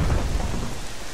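Steady rain and rumbling thunder in the video game The Legend of Zelda: Twilight Princess HD, a dense continuous downpour with a heavy low roll at the start that eases slightly, with no voices.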